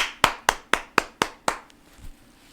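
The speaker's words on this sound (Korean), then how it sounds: "여러분 박수." Six sharp, evenly spaced claps ring out about a quarter second apart, close and distinct, then a soft trailing thump, with no voices over them.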